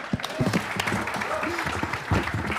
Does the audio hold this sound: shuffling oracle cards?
no